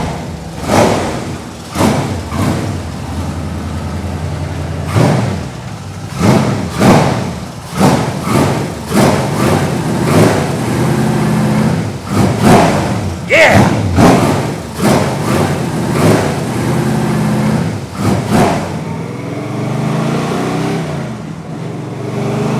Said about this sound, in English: I'm driving the XU2 replica, just like the one that Harry Firth was behind, a prototype car.